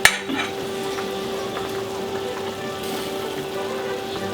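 A ladle knocks once against a pot of chicken cassoulet just coming to the boil, then a steady bubbling simmer with soft scraping and skimming strokes continues close by, unaccompanied by voices.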